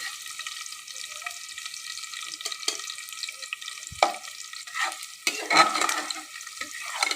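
Beef frying in a pan for a spicy Bengali bhuna hisses in a bright, steady sizzle, broken by louder bursts and scrapes as the meat is stirred and turned, heard close up without talking.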